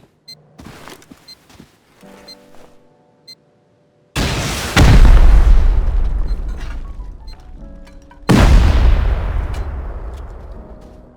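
Two heavy explosions go off while raiding a solo base in Rust, each a sudden loud boom with a long rumbling decay, after a run of small clicks and knocks.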